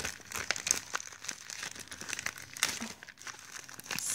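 Sticky tape being peeled off a paper envelope, a close, quiet stretch of crackling, crinkling rips and rustles lasting a few seconds, with no talking.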